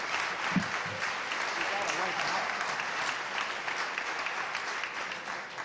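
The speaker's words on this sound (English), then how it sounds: "Now, I know some of you got to clap to this one." A large audience at a governor's State of the Commonwealth address claps in sustained, even applause throughout, with a brief voice near the start.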